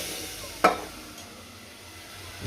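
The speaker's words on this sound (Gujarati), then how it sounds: "આ જો રગડાનો વઘાર થઈ ગયો છે." Ragda being tempered for panipuri sizzles in hot oil under a steady close hiss, with one sharp clatter of stirring near the start.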